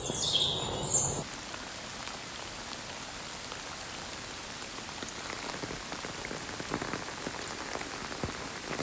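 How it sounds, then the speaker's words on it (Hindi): Heavy rain drumming steadily on a camping tent during a storm, a dense constant patter up close, with a few faint bird chirps just at the start. "तो दोस्तों बारिश बहुत ज़्यादा हो रही है।"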